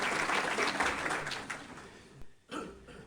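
An audience at a media summit claps in a dense burst of applause after a line in a speech, fading over a couple of seconds before a short final flurry of claps.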